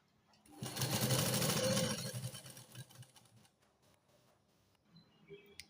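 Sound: sewing machine stitching kurti hem

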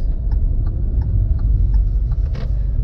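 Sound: car accelerating during a driving lesson

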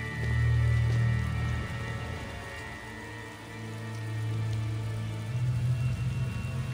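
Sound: rain falling in the video game Tales of Xillia

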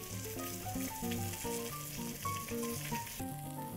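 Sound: chicken browning and sizzling in a pan

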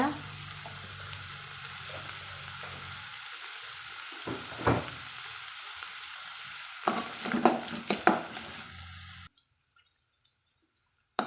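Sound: sautéing drumsticks with salt and turmeric in a pan

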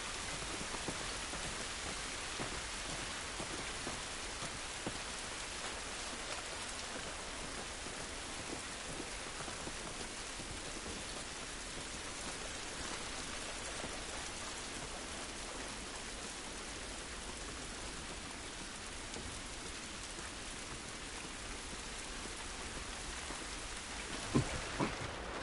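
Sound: rain falling outdoors in The Last of Us video game

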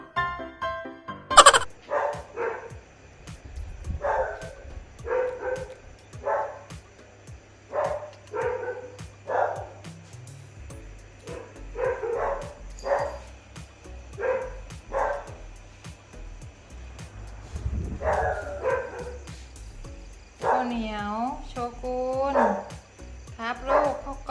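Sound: dog barking at night

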